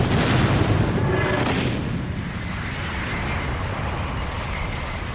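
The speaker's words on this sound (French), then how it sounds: "une énorme explosion d'énergie vint balayer la base militaire" A loud, deep energy explosion roars out at once across a military base, then fades into a long rumbling rush of debris-like noise.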